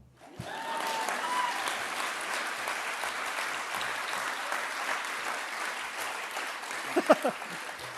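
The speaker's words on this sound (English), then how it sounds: "You should clap." Audience applause at a political rally on a workers' picket and labour struggle, a steady broad wash of clapping that runs for several seconds at even loudness, with a few sharper claps standing out near the end.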